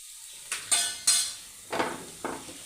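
Five sharp metal scrapes and taps come from a spoon stirring ground pepper and garam masala in a pan. The strokes are spaced unevenly and fade quickly in a quiet kitchen.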